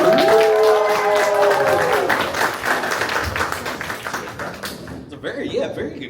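Convention crowd at a comic con panel clapping and cheering for a guest's entrance, loud and dense at first, then gradually thinning and fading, with voices mixed through the noise.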